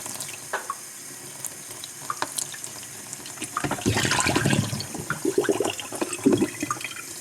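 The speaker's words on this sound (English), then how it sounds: "So we got some warm water. We're running it on." Warm water runs from a tap into a sink, starting midway through as a rushing, gurgling flow with splashes. Scattered small clicks and knocks come before it, with no talking.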